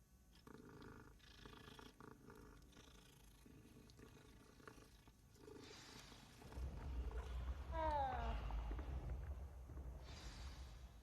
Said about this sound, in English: Can't let there be a cat that we don't pet.